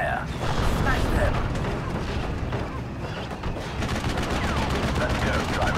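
Continuous crackling gunfire and rattling battle noise from Steel Division Normandy 44, dense overlapping shots with mechanical clatter throughout, fairly loud and busy.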